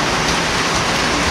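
Steady heavy rain pours over a construction site awaiting its roof, a dense continuous hiss close and loud with no other sounds.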